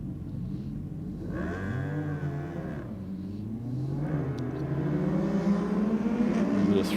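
Drag cars launch down the strip at a night competition at Sydney Dragway, heard as a distant, swelling engine roar with rising and falling pitch sweeps that build in loudness.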